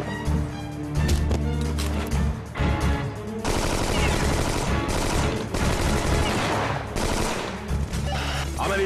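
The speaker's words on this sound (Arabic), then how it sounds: "في تبادل اطلاق نار جوه يا فندم" A gunfire exchange in an Egyptian police comedy film: sporadic shots, then rapid bursts and sustained automatic fire with shots ringing out loudly alongside music, with brief lulls between volleys.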